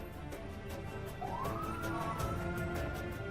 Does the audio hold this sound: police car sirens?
yes